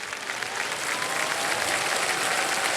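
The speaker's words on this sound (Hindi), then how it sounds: "अरे ताली बज गया है अभी।" Studio audience on the Kaun Banega Crorepati quiz show clapping together, a thick, steady roar of many hands that swells slightly and holds at full strength, with no speech over it.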